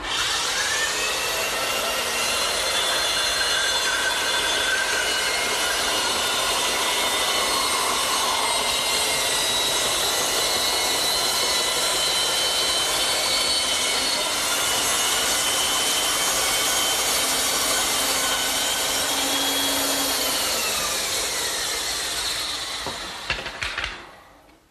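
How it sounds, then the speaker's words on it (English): A power saw whines steadily as a wooden blank spins on a pivot pin to be cut into a perfect circle for a cricket table top, a loud continuous cut that winds down and stops at the end. "I'll turn the saw on, spin the blank, and I'll get a perfect circle every time"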